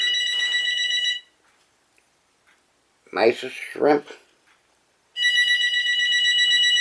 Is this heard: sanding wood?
no